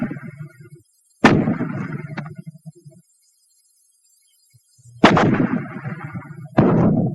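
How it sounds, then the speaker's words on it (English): Fragmentation grenades burst in a wartime infantry training setting, several loud, sharp blasts with rumbling tails separated by stretches of silence. "The Fragmentation Grenade. It's very useful for treating them when they're bunched"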